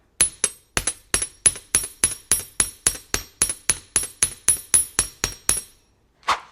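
About twenty quick, evenly spaced hammer taps ring out sharply on metal wire for earrings, close and loud, ending with a brief soft rub.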